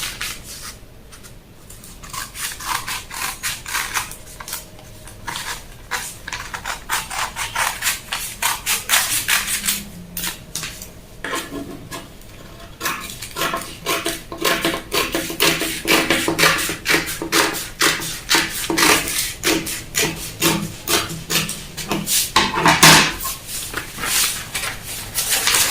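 Fabric for a full circle peplum is cut out with scissors, making repeated close snips and papery rustling rubs in an uneven rhythm throughout, with no voices.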